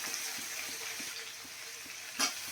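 Capsicum dropped into a pan for egg chicken curry, frying with a steady low sizzle and faint stirring scrapes, with one brief louder hiss near the end; no talking.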